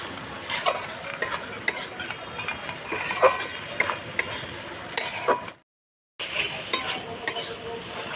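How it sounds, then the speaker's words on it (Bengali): Spice masala being stirred and fried in a pan for a jackfruit and prawn curry, with loud repeated spoon scrapes and clinks over a steady sizzle and a brief silent gap before the stirring resumes. "মশলাগুলো ভালো করে কষাতে হবে"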